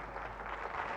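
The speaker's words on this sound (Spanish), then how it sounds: "Y un aplauso para ella." An audience at a keynote talk on cybersecurity applauds, a steady wash of clapping from a hall, moderate and continuous throughout.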